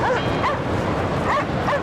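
Sled dogs in the video game Cryostasis bark and yip in short repeated bursts over a steady, noisy wind-like ambience, with no talking.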